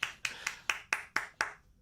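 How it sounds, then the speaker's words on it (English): Seven sharp hand claps at an even, quick rhythm, close and moderately loud, then the room falls quiet. "Clap, you bitch."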